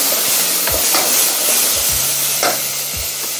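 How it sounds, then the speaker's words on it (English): Tomato puree is added to browned onions in a pot and sizzles loudly and steadily, a dense close hiss with occasional stirring knocks underneath. "Now I add in my tomato puree."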